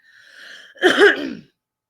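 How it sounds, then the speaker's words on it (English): A single close, raspy throat clearing, starting with a breathy rasp and ending in a rough, voiced grunt, with silence after. "let me clear my throat"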